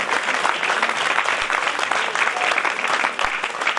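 Audience clapping at a devotional katha gathering as donations are announced, a dense continuous patter of many hands at steady loudness with no speech over it.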